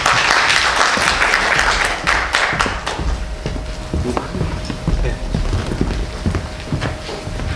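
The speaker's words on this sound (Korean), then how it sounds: "박수 부탁드립니다." An audience at a Korean academy's prep-school information session claps to welcome a math teacher. A loud burst of applause fills the first few seconds, then fades into quieter footsteps and room noise.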